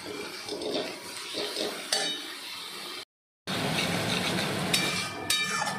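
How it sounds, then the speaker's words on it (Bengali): Spices and tomato sautéing in a pan for a taro stolon and shrimp dish, with a close, busy sizzle and repeated spoon scrapes against the pan, broken by a short silent gap before the frying resumes. "টমেটোটাও দিয়ে দিই, সব কষিয়ে নিয়ে আসছি।"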